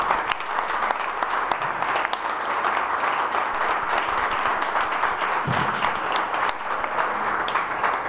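A church congregation applauds during an evening service, a dense, steady wash of clapping from many hands that carries on unbroken for several seconds.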